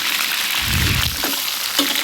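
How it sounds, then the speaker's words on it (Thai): A brief burst of oil sizzling and crackling as a pork leg goes skin-side down into a hot pan, bubbling loudly for a moment then settling into a steady hiss. "นำด้านหนังลงไปทอด"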